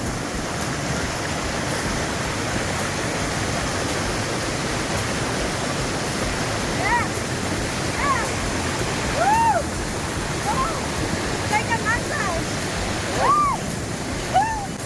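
A waterfall in Colombia roars with a steady, full rush of falling water, while small birds chirp now and then above the constant noise.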